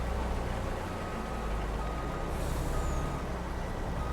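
A farm vehicle in Farming Simulator 22 drives off with a constant low engine drone and broadband road rumble, a faint high whine rising briefly midway, steady and unbroken.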